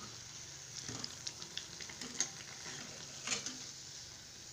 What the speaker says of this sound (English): drop into the bowl in which oil has been deep fry the bread and mixture